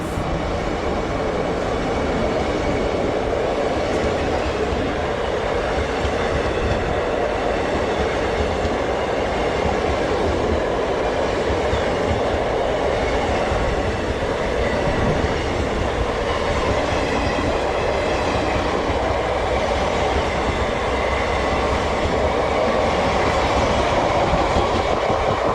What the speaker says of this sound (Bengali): SMBT Bengaluru Humsafar express.